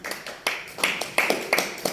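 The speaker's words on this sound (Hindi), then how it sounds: "अगर ये नाम अच्छा लगता हो तो आप लोग तालियां एक बार बजाएं" A book launch audience gives a short burst of applause at a ceremony for a children's story collection. The sharp, irregular claps are close and moderately loud, with a few faint voices mixed in.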